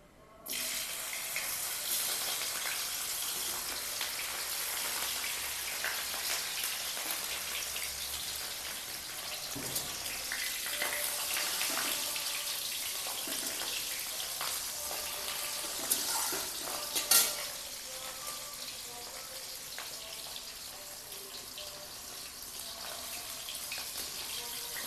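Fish sizzling in hot mustard oil in a wok, a steady bright crackling hiss that runs continuously and fairly close, with a few sharper pops near the middle.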